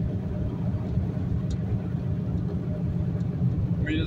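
Turbocharged stock-bottom-end 351 V8 with upgraded heads, cam and intake in a Ford Fox Body, heard as a steady, muffled low rumble from inside the car during a ride, fairly quiet and unbroken.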